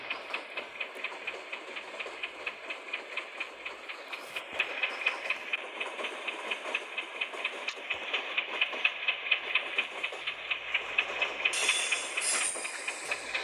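A 10-coach train in the Indian Train Simulator game runs steadily on rails, giving a continuous rumbling roll with a regular clickety-clack beat throughout, fairly loud and without talking.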